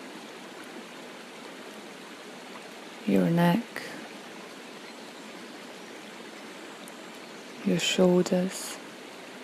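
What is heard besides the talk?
water falling from a waterfall onto a rock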